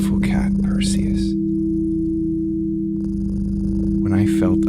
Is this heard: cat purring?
yes